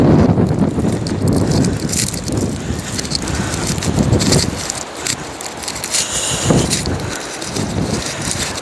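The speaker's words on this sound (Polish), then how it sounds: "Nie wiem jak mnie słychać, bo dmucha teraz strasznie." Strong outdoor wind buffets a microphone in heavy, continuous rumbling gusts, loud and close, easing briefly before surging again.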